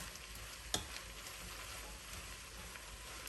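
Chili ingredients fry in a pot with a steady, close sizzle and a sharp clink early on, continuous crackling with no speech.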